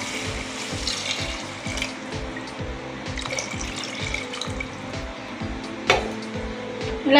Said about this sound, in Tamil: இப்போ இந்த ஸ்டேஜில் நம்ம தண்ணி சேர்த்துக்குவோம்.